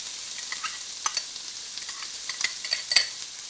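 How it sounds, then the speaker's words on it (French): Onion, ginger and garlic sweating in a frying pan make a constant soft sizzle, close and even, with a few brief stirring clicks. "je vais les retirer pour faire suer mon oignon, mon gingembre et mon ail"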